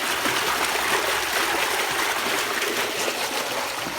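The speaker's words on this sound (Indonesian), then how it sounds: "Ini proses pembuangan airnya." Water drains from a tarpaulin catfish pond, a steady, loud rush of flowing, splashing water that continues without break throughout.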